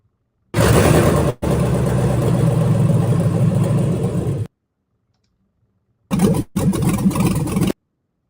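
Turbocharged Chevy Tahoe engine running loud and close for about four seconds, cutting out, then starting again in a shorter second burst with a brief break.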